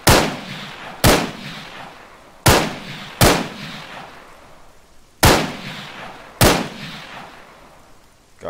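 Six loud, sharp gunshots crack at uneven intervals in Arma 3, each followed by a decaying echo tail, with no talk over them.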